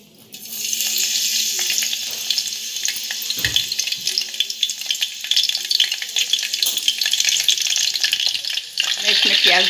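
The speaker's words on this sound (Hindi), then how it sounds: "गैस पर टोप रखी हूँ, उसमें 2 चम्मच तेल डाली हूँ। अब इसमें मैं कड़ी पत्ता डालूँगी।" Curry leaves dropped into two spoons of hot oil in a pot on a gas stove give a sustained bright sizzle and crackle, with a brief clatter partway through and a louder burst near the end.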